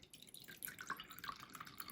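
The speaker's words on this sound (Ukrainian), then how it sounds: "Наливаємо соєвий соус." Soy sauce is poured into a marinade for chicken thighs, giving faint liquid trickles and a few small splashing drips over a quiet kitchen background.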